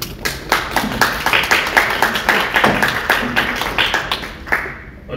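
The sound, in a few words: applause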